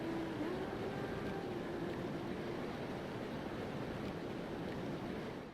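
Ambient water sound from the Final Fantasy 9 video game, a steady soft rushing wash like surf, fairly quiet and continuous, with a faint thin tone from the game's music beneath.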